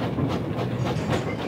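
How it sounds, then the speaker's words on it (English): A steam locomotive chuffs steadily across a stone bridge, its rhythmic rail rumble and clatter carrying on continuously at a moderate level with no voices. "When Thomas chuffs happily across the stone bridge"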